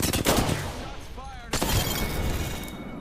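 Gunfire in the video game Apex Legends: rapid loud bursts of automatic fire crack up close, break off briefly, then resume in a second sustained volley, with a voice speaking over the shooting.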